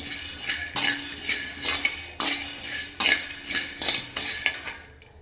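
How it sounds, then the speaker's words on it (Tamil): Sesame seeds are roasted in a clay pot, stirred in a steady rhythm of roughly ten scraping, clinking strokes that sound close and clear with no talk. "இது மண் சட்டி அதில் தான் வறுக்கிறேன்"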